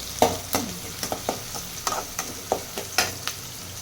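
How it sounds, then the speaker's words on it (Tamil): Onions sauté in a pan for a bean stir-fry, with sharp spatula knocks and scrapes at a fairly regular pace over a low, continuous sizzle, close up and without talk. "வெங்காயம் நல்லா வதங்கட்டும்."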